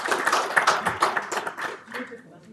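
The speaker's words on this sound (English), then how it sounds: "Round of applause to you." Scattered clapping from an audience at a live-streamed Geneva event, uneven bursts of hand claps that thin out toward the end.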